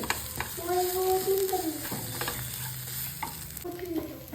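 Paneer butter masala stirred in a hot pan, a steady sizzle with scraping spoon strokes and a few brief tonal squeaks from the pan, close and loud, with no voices.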